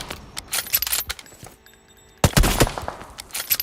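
Bursts of M4 rifle fire in the BGMI battle royale game, a quick rattling volley early on, a brief lull, then a louder, denser flurry of shots with metallic clinks, close and sharp.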